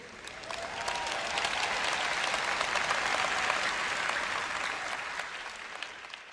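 A congregation at a Christian sermon gives sustained applause that swells in over the first second, holds a dense, even roar of clapping, then fades slightly at the end.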